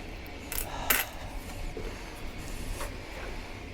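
Pliers working screws out of old cabinet hinges on a 1909 kitchen cabinet, giving a few sharp metallic clinks and scrapes near the start, then faint fiddling noise, close and otherwise quiet.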